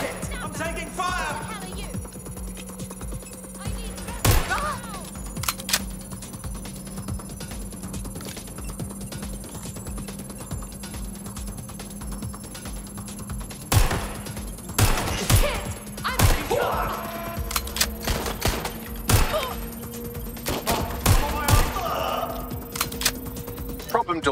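Gunfire in the Watch Dogs: Legion video game, sharp bursts of shots scattered through a busy mix of game sounds and music, with voices talking over the action.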